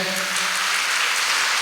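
An audience claps at a school inauguration ceremony: a dense, steady burst of applause across the whole stretch, with a faint voice briefly audible at the start.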